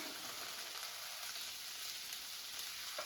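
Eggplant and zucchini pan-frying while being stirred with seasoning, a faint continuous sizzle with soft crackle throughout and no speech.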